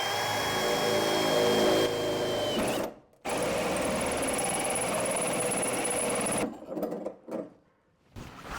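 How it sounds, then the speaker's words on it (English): A power drill bores through metal, running loud and continuous with a brief pause, then stopping and starting in short bursts near the end; hot shavings are caught in foam. "All right, we have everything drilled out now."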